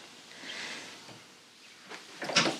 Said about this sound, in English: let me close the door first